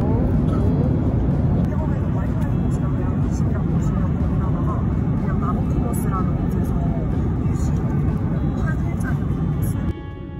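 Airplane cabin noise on a flight to Bangkok: a steady, loud broadband engine roar fills the cabin throughout, with people talking over it.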